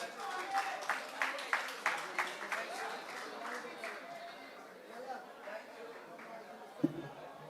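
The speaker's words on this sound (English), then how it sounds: "Let's give them a round of applause" Scattered applause from a crowd at a market day event in Mahaut, with rhythmic claps in the first half fading under steady outdoor chatter, plus a brief thump near the end.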